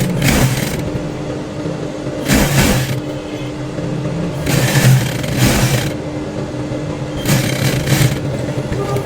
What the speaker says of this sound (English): I'll now start my stitches, double stitch.